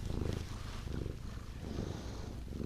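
A pet cat purrs steadily and softly while being held close, a low continuous rumble with no talk over it.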